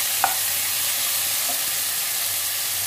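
Tomato, chopped ginger and green chili frying in a pan, a steady soft sizzle and hiss throughout with a faint clink of stirring near the start; no voices.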